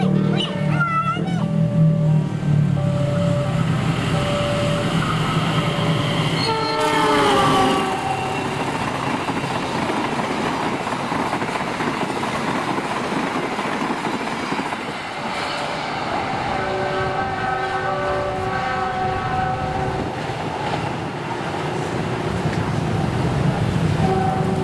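Papandayan train speeding past at high speed on an Indonesian railway, a loud steady rumble and rush of wheels lasting throughout, with tonal whines rising and fading near the start and later on, and no voices.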